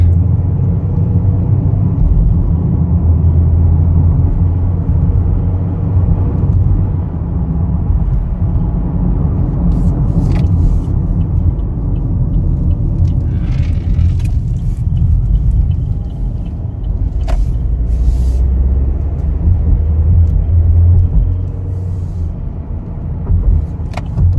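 A 2022 Chevrolet Equinox LS accelerates, giving a steady, loud low engine rumble with road noise from inside the cabin, rising and holding for over twenty seconds.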